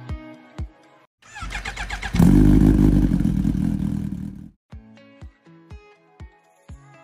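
A 2023 Suzuki GSX-8S naked motorcycle from the 700-800 class starts up and revs loudly for about three seconds, then cuts off, with music playing before and after.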